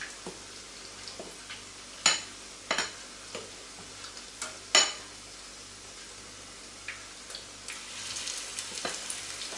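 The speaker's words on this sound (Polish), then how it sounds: "Smażymy na zmniejszonym płomieniu." Steady sizzling of battered carp frying in oil over reduced heat, with occasional sharp clinks and taps of a utensil against the pan.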